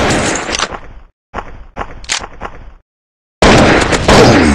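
Gunfire from the blocky shooter video game Block Gun, rapid bursts of shots in clusters separated by brief silences, loud and close, ending in a sustained dense volley.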